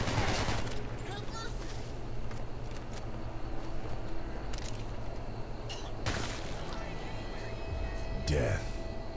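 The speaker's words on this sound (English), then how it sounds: "Shotgun alert!" Shotgun blasts ring out in the violent shooter game Hatred: a few sharp, loud bursts scattered over a steady noisy backdrop, with the last blast near the end.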